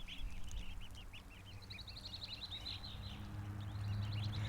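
Ducks and ducklings quack and peep in rapid, repeated bursts at a moderate distance outdoors, fairly faint over a low steady background rumble.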